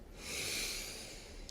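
One long, deep inhale comes through as a breathy rush of air, close and steady, during a guided breathing exercise.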